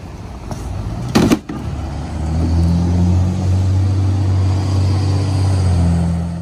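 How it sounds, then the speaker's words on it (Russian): A Tesla Cybertruck electric armored pickup drives along a road. A sharp bump comes early, then a loud, steady low drone with a tonal hum from the moving truck, and no one talks. "Еще недавно Илон Маск показывал новую бронированную машину на презентации, а теперь сам гоняет на ней вместе с певицей Граймс."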